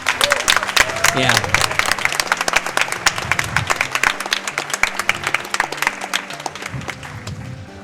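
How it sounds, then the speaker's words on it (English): Audience applause at the SGDQ 2016 speedrun marathon, a dense, steady wash of many clapping hands filling the room for the whole stretch, with a voice talking over it. "let's give everyone at home a round of applause"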